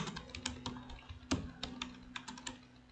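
Computer keyboard keys clack in quick irregular bursts of taps with short pauses as HTML code is typed, close and fairly quiet, with no talk.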